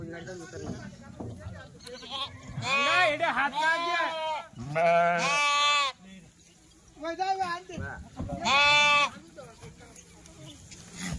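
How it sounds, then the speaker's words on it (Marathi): Kathiawadi goats, sheep and lambs crammed in a vehicle bleat repeatedly, loud and close, several overlapping calls in bursts, with people talking between and beneath them. "बघा मित्रांनो कोकरू मेंढ्या मस्त"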